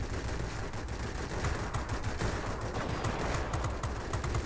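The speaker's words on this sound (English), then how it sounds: "Try to get these cannons on target again" Rapid bursts of aircraft cannon fire from the I-210 in World of Warplanes rattle continuously over a low engine drone, dense and fairly quiet throughout.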